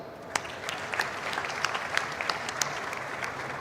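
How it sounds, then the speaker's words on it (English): Audience applause at the close of a vote of thanks at the Maritime India Conference & Expo 2025, with a steady wash of clapping across the whole stretch and sharper individual claps popping out near the front. "kindly carry out this vote of thanks with a huge round of applause"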